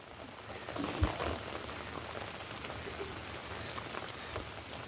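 Heavy monsoon rain pours steadily near a coastal creek, a dense, continuous hiss of drops on surfaces with no pauses.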